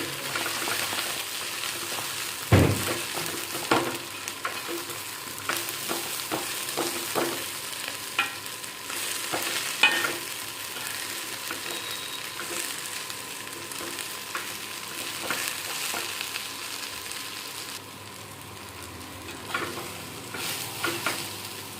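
Chopped coriander stir-fries in a pan for an Andhra-style pickle, a continuous close sizzle broken by frequent scraping strokes and taps of the spatula, with no voices.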